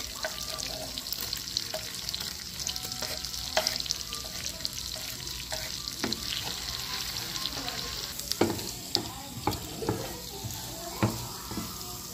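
Garlic sizzles and crackles in melted butter for buttered shrimp, a steady close frying hiss broken by scattered pops and the clink of stirring.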